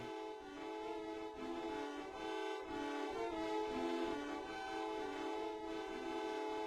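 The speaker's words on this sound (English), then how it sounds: "That was the metathon theme that someone was honking" A horn honks out a melody from a Deltarune boss battle theme, with sustained, tonal blasts in a steady rhythm, loud and fairly close.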